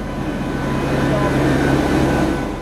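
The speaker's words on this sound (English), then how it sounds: "The P-3, it's an old military plane. The military planes are loud and vibrate," Steady, loud cabin roar and drone inside an old P-3 military plane in flight, a constant broadband rumble with a low hum and no break.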